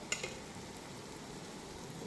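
Quiet, steady sizzling of bitter gourd seeds frying in a pan, with a faint crackle near the start and no voices.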